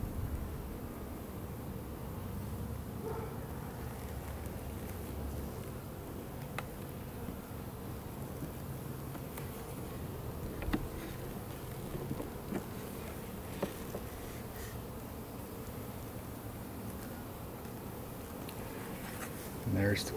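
Honey bees buzz continuously through a spring beehive inspection, a steady low swarm hum with small clicks and knocks of frames and hive tool, while a person talks intermittently over it.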